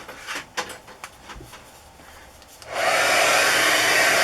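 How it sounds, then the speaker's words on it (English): After a few soft clicks and handling taps, an embossing heat gun switches on and blows a steady loud whooshing hiss of hot air for the last second and a half, heard up close. "So I'll take my heat gun"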